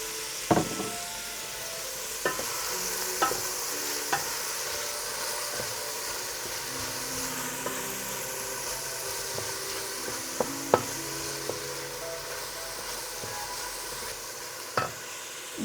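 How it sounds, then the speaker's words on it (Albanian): Onion sizzles gently in hot oil in a pan, a soft steady frying hiss punctuated by occasional clicks and scrapes of stirring, with no talking. "Kam hedhë vaj në fillim, e kam lënë sa unë të shizor pak dhe filloj me qepën."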